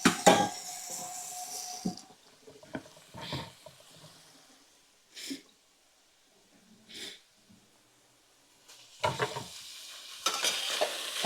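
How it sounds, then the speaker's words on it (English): Garlic and vegetables stirred in a pan for drunken Italian noodles: short, scattered scraping and sizzling bursts, loud at the start, then quieter with long near-silent gaps before a final busier stretch. "get that garlic mixed in there with them vegetables"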